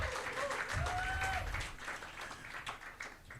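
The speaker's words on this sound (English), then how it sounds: "please make some noise and a round of applause" A crowd at a media workshop gives a round of applause, dense clapping that starts loud and gradually thins and fades over a few seconds, with some voices mixed in.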